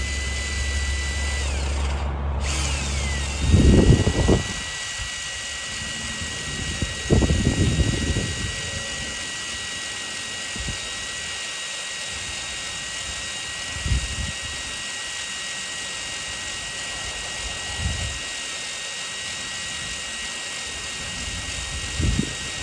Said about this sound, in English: there are little metal shavings coming out of the hole here. The bit's doing its job.